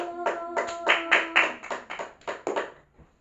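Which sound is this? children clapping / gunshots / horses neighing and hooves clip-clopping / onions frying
children clapping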